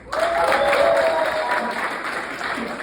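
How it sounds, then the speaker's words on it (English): Audience applause at a comedy club set in the Las Vegas Arts District, a short burst of crowd clapping and cheering that swells quickly and holds steady. "Round of applause for Las Vegas local."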